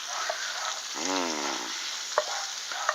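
Garlic shrimp sizzle and crackle in melted butter in a pan, a steady hissing fry with a few sharper pops and a brief stirring scrape.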